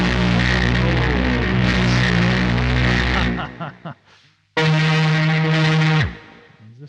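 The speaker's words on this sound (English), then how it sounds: "we're using this just as a distortion and filter right now" A buzzy distorted synthesizer tone from an Onde Magnétique OM-1 through a Metal Fetishist distortion and filter sweeps through filter changes, cuts out briefly, then returns as a harsher, brighter drone before stopping abruptly.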